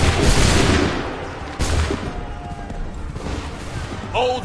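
Soldiers fire a musket volley in Assassin's Creed III, a dense crackling burst of many shots at once, followed by further scattered blasts and battlefield noise with voices in the background.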